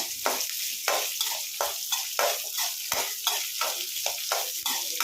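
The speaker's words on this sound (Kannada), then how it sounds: "ಒಡೆಯಿದೆ ಹೀಗೆ ಹುರಿಬೇಕು" Ingredients for hotel-style keema sambar fry in hot oil while a spoon stirs them, giving a steady sizzle with rhythmic scraping strokes about every half second, close and alone.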